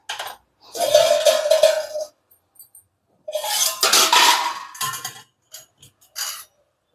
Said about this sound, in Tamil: அப்படியே சூடான வெந்நீரை ஊற்றிக்கலாம்.